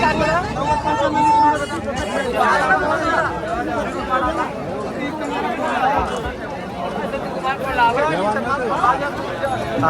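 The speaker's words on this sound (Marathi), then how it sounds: "बाजारात जबरदस्त अशी गर्दी आहे" A dense crowd fills a farmers' bullock market, with loud, continuous overlapping chatter and babble from many people all around.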